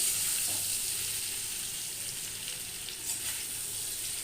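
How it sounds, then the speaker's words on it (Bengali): Papaya and potato frying in a pan, a steady close sizzle with soft stirring scrapes running throughout, no voices. "পেঁপে আলুটা ভাজা ভাজা হয়ে গেছে"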